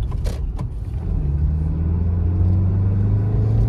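A Maruti Suzuki Baleno petrol hatchback is recorded from inside the cabin as its engine rises into a steady, climbing hum. Its smooth low drone strengthens after the first second.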